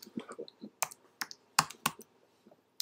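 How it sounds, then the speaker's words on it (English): Uneven typing on a computer keyboard, a programmer entering code, with irregular clicking keystrokes at close range and some sharper key hits. "Please be patient with me for my typing."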